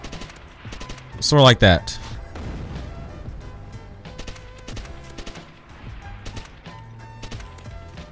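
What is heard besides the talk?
MP40 gunfire in Call of Duty: World at War video game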